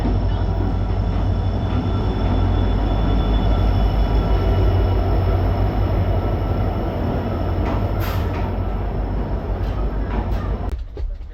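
Train at Guwahati railway station in Assam, a loud, steady rumble of carriages and rail noise running throughout, with faint station sounds over it and a sharp clatter near the end.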